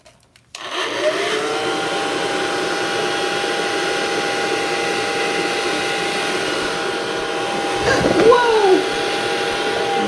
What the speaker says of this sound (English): I think I'm going to use the hair dryer.